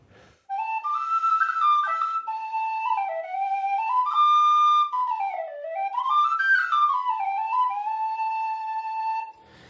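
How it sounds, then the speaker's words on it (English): A tin whistle in D, the kind played at Irish music sessions, carries a clear, bright solo melody with ornamented turns and rising and falling phrases, close and unaccompanied. "Your D whistle is what you usually play if you are going to an Irish music session, and it's that recognisable sound of the tin whistle."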